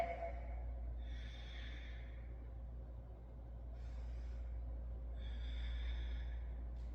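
Slow, deep breaths drawn through the nose during a yoga backbend, three soft airy swells rising and fading over a steady low room hum, close to the listener.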